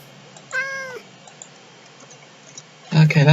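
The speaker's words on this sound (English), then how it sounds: "Oh, there's a cat. There's a cat." A cat in the Minecraft 1.14 snapshot gives one short, clear meow, followed by scattered faint clicks and then a sudden loud burst of noise at the end.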